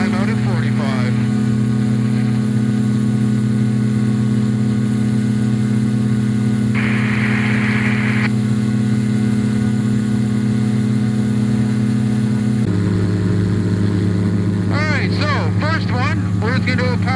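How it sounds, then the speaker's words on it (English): A light aircraft engine runs at full throttle for a circuit takeoff, a loud steady drone that shifts pitch partway through as the plane rotates and climbs out. A voice speaks over it briefly. "stick neutral, throttle to full, brakes off, I hit 35, rotate, climb out at 45"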